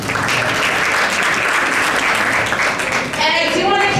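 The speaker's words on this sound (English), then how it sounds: "A round of applause for all of you for joining us as well." Dense, loud applause from a gala audience at an awards dinner, steady throughout with crowd noise and some talking or cheering mixed in toward the end.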